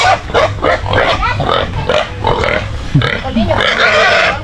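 Pigs, including two pregnant sows, grunt and oink repeatedly at close range while being fed, a busy, overlapping chorus of snorts with some voices talking in the background on a backyard farm.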